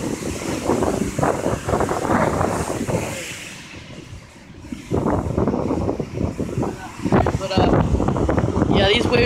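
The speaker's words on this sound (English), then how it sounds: "These waves are like super crazy." Ocean waves break and wash ashore at Myrtle Beach, South Carolina, in rough surf. Heavy wind buffets the microphone throughout, and the roar surges and eases.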